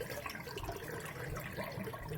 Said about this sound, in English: So I poured off the water.